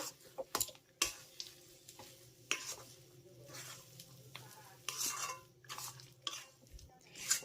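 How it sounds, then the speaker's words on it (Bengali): Vegetable chop filling is stirred with bread crumbs in a pan, with irregular scrapes and taps of a spoon against the pan over a faint sizzle, fairly quiet and close. "ব্রেড ক্রামসটা আমি ভালো করে মিশিয়ে নেব"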